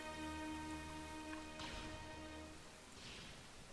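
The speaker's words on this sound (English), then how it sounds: "So as you can see, it's raining." Rain weather effect in the theme-park game Planet Coaster, a dense steady patter of falling rain with a low rumble and a soft swell near the end, heard alone without talk.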